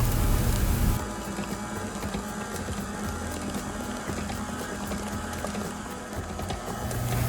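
An electric mixer runs steadily on low speed as eggs are beaten one at a time into New York cheesecake batter, a close, continuous mechanical whir with a rhythmic rattling texture throughout.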